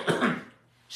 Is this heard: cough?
yes